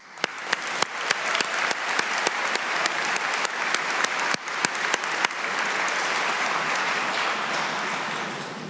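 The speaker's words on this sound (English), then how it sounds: "I certainly think all of you are deserving of a loud applause right now." Graduation audience breaks into loud, sustained applause for the Class of 2012, dense clapping close and steady throughout with a few sharper claps standing out, no talk over it.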